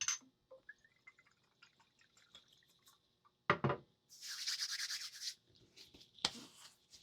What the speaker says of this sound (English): Let's do a little Whispering Woods aftershave